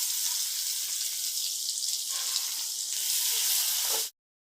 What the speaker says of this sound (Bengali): কড়াই যে তেল আছে এতেই আমার হয়ে যাবে দিয়ে দিচ্ছি পেঁয়াজ কুচি